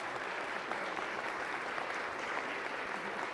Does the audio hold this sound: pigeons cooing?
no